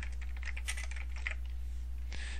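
Close, quick keystrokes on a computer keyboard while entering data, a short run of light clicks ending in a sharper final tap over a low steady hum.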